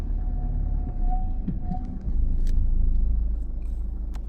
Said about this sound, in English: What it is, I start moving the car.